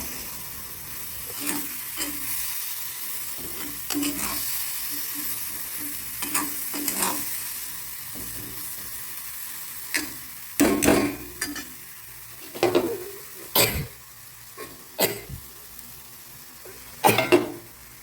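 Eggplant and spices stir-fried slowly in a pan, a village kitchen setting; continuous sizzle with repeated spatula scrapes and clanks against the pan, growing louder and more frequent toward the end, no voices.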